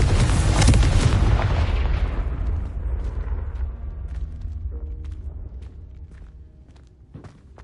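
A Confringo spell blast goes off in the Hogwarts Legacy video game, landing as a loud, heavy explosive boom with a broad burst that rolls into a long, fading rumble, plus a few faint clicks and thuds in its tail.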